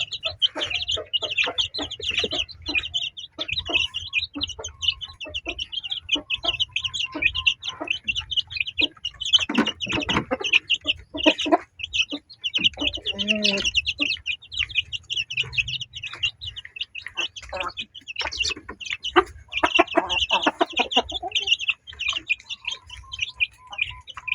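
Chickens feed on corn bran mixed with leftover rice and booster feed, with steady high chirping and repeated clucks close by, a few louder calls breaking through.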